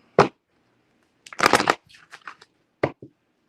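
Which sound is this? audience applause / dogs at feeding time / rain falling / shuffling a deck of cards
shuffling a deck of cards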